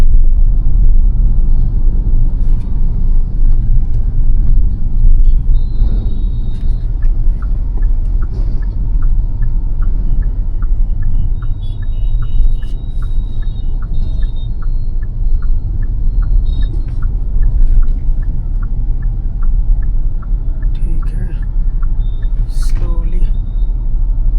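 A car's engine rumbles steadily while it is driven slowly in first gear by a beginner, a loud continuous low drone with faint clicks and a voice speaking over it.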